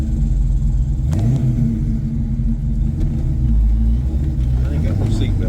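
A supercharged 1995 Mustang GT with a T56 gearbox and 3.73 gears accelerates on a gravel road, heard from inside the car. It gives a loud, deep rumble that climbs in pitch as it revs, with a voice faintly underneath.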